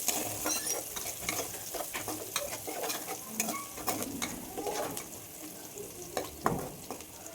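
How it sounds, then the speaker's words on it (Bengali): Chopped onions fry in a pan over medium-high heat with a steady close sizzle, overlaid by irregular scraping and clicking as they are stirred. "পেঁয়াজটাকে ভালো করে ভেজে নিতে হবে"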